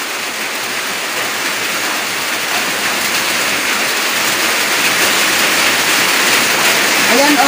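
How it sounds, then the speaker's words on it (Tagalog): Heavy rain pouring down in a dense, loud, steady hiss, close and continuous throughout, with a faint voice near the end. "Ayan, malakas yung ulan."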